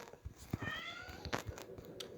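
Indoors, a cat lets out a drawn-out meow, faint and close, amid soft clicks and small room noises.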